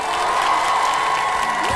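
Studio audience applauding on a Korean TV trot music competition show, a steady dense wash of clapping that holds at an even level from start to finish.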